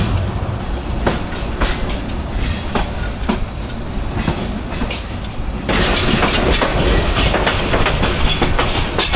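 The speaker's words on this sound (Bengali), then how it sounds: "এই কালভার্টের কাজের জন্যই আমাদের ট্রেন এরকম গতি কমিয়ে দিয়ে আস্তে" Upaban Express passenger train rolling slowly over culvert works on the Dhaka–Sylhet line, steady clickety-clack of wheels on rail joints with a continuous rumble that grows louder near the end, no talking.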